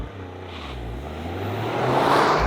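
Toyota GR Yaris engine held near 4,000 RPM for a launch, a steady loud drone that builds as the clutch engages and the car begins pulling away.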